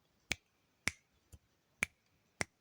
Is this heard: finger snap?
yes